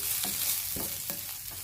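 Shallots sauté in a pan with turmeric and chili powder for a drumstick flower stir-fry, giving a soft, steady sizzle broken by a few scraping stirs of a spoon, faint and close.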